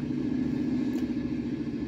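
A farm vehicle in a 1990s-style farming sim game rolls down a gravel road, giving a steady mid-pitched engine drone with a constant low rumble, close and unbroken.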